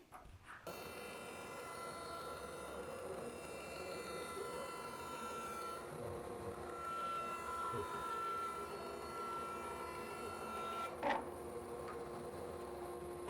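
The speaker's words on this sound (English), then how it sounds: "Can you turn the dust collection on, please?" A woodshop dust collection system runs steadily as a constant broadband whoosh with a faint tonal hum, close and continuous throughout, with a brief louder knock near the end.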